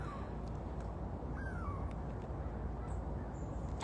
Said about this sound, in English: That's a bird that I don't usually hear.